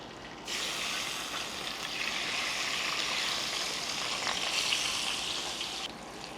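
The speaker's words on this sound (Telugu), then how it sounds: "దీంట్లో ఎగ్స్ వేసేస్తున్నాను" Eggs frying in hot oil with turmeric for a tamarind curry, a steady, loud broadband sizzle that starts abruptly and holds evenly for several seconds with no voices.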